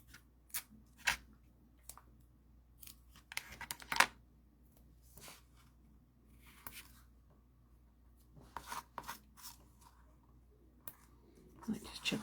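Card paper is snipped with scissors in short separate cuts and rustles during card making, quiet and close, with soft handling noises between the snips and a low voice speaking.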